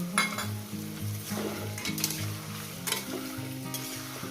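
Fish curry masala with tomato sautés over a medium gas flame, a continuous close sizzle with rhythmic stirring and occasional scrapes of a utensil against the pan.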